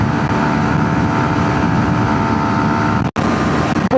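A Yamaha MT-15 motorcycle accelerates hard in sixth gear during a drag race against a KTM Duke 160, giving a steady, loud engine drone with a brief dropout near the end.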